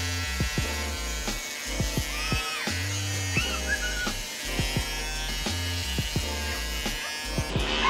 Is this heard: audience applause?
no